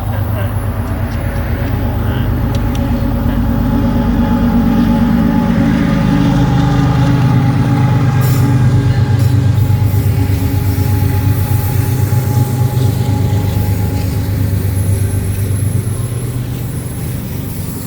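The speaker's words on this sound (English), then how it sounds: "The lead locomotives, well, the locomotives, yeah." FEC freight locomotives rumble past close by over a bridge, a loud, sustained low roar with a throbbing engine drone and rattling wheels that holds steady throughout.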